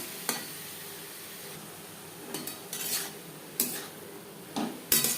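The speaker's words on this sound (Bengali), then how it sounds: "কালো জিরে ও কাঁচা লঙ্কার সাথে থোড় বেশ ভালো করে মিক্স করে দেবো" Banana stem being stirred with nigella seeds and green chilli in a pan, with a few distinct scrapes and clinks of a utensil spaced across the stretch over a faint, steady sizzle; no talking.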